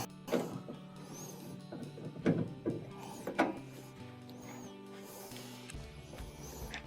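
Screws are tightened by hand during a clothes dryer repair near the lint duct, producing a few close ratcheting, scraping bursts followed by a steadier mechanical whir.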